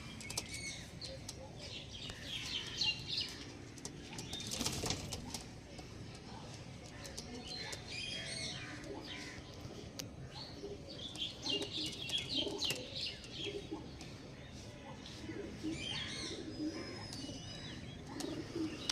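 Andhra Kalshira pigeons, a top-quality Punjabi breed, coo steadily in a busy loft, with chirps and occasional wing flaps layered into a dense, continuous flock sound.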